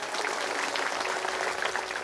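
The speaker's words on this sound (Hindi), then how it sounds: "ताली बजाओ एक बार।" An audience at a Bhagavat Katha religious gathering claps together in steady, dense applause, a continuous crackle of many hands heard in a reverberant hall, with no talking over it.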